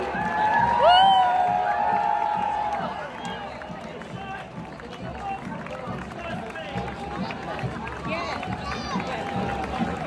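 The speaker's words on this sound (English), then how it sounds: "Let's hope you're going to give the biggest cheer of the night to Team Guernsey" A large outdoor crowd cheers for Team Guernsey during an Island Games opening parade, a broad sustained roar of voices and whoops, loudest early and then settling into steady distant crowd noise, with a tonal sound riding on top at the start.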